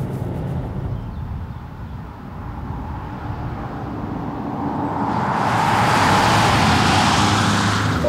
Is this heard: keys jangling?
no